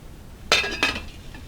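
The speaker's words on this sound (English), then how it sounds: "So I'm going to go ahead and put the lid on." A metal lid settles onto a pot of ginger turmeric tea with two quick, bright clinks about a third of a second apart. The sound is close and clear against a quiet kitchen hum.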